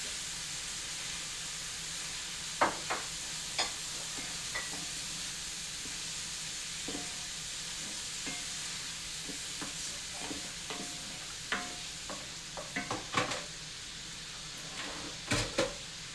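Seasoned ground beef sizzles steadily in a pan, a soft continuous hiss broken by scattered scrapes and clicks of a utensil stirring, close and fairly quiet with no talk.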